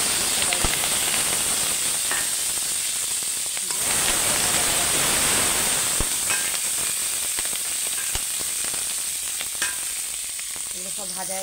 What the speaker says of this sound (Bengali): এবার আমি ওই তেলেতেই পেঁয়াজ কলি আর টমেটো দিয়ে দেবো